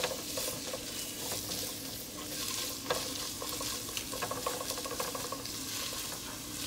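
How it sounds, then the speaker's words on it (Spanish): Chopped white onion cooking with ground meat in a pan for taco soup, a soft steady sizzle and crackle with faint stirring scrapes, quiet and close, no talk. "La vamos a cocinar aquí con la carne hasta que se caramelice la cebolla"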